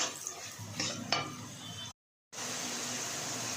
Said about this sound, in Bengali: দিয়ে এটাকে একটু কষিয়ে নেব।